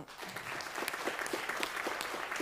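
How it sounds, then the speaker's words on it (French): Studio audience applauding contestants from the Marseille club on the French TV game show Des Chiffres et Des Lettres, a dense, steady patter of many hands filling the whole moment. "avec vos applaudissements bien sûr"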